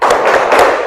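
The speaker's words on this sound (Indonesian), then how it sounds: "Sekarang kita melakukan tepuk semangat ya." A school class does a rhythmic 'tepuk semangat' clapping routine, loud close claps in a quick patterned burst.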